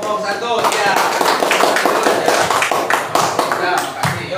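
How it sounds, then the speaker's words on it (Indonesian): Classroom students clapping for a group after its presentation, loud close applause with irregular hand claps and taps, voices talking over it. "tepuk tangan untuk kelompok 1 ya"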